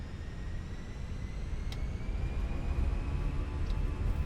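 Airbus engines spool up in a flight simulator, a steady broadband roar with a faint rising whine that builds gradually and evenly, with no talking.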